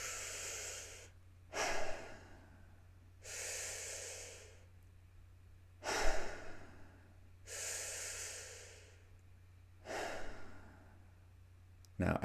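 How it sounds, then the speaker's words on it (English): Slow, deep breaths in and out, each a soft airy rush lasting over a second with pauses between, close and fairly quiet under a low steady hum. "Let's take some big breaths."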